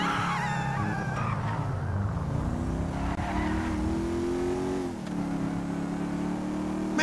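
A big 140-cubic-inch motorcycle engine in GTA V, droning loud and steady with a rising pitch as it revs and pulls away, continuous for the whole stretch with no talk over it.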